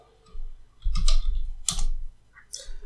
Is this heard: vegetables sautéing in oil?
no